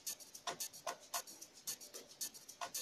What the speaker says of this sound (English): I also have a shaker loop which sounds like this